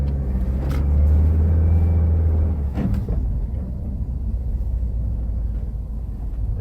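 A 2015 Subaru WRX with a MAP Stage 1 tune slips and slides on a snowy road, its engine a loud, steady low rumble that swells briefly before settling into a continuous drone, with no voices.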